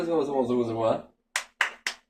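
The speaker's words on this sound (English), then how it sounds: "They're clapping at you, sir." A few separate claps ring out one after another, sharp and close, right after a stretch of speech; three distinct hand claps with short gaps between them.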